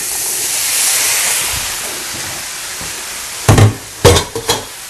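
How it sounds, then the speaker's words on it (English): Spices hiss and sizzle steadily in a hot frying pan, a broad frying crackle, with a few sharp clattering knocks near the end. "them spices are really popping now"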